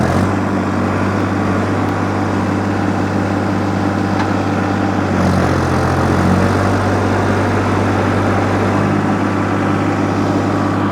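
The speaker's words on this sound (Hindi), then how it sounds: "अभी देखते हैं कि ये ट्रैक्टर ऐसे निकलेगा या नहीं निकलेगा।" A Sonalika DI tractor engine runs steadily while the tractor sits stuck, a loud continuous low drone with a brief rise in effort midway and no talking.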